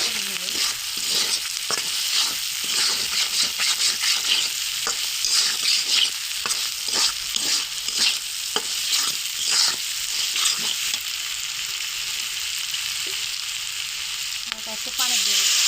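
A spice paste of ginger, garlic, cumin and salt with chickpeas fries in a pan for ghugni, with a spatula scraping in regular strokes over a continuous sizzle that eases toward the end.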